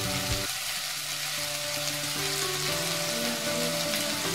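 Egg keema sizzles and fries steadily in a hot pan, a continuous crackling hiss at close range with no talking.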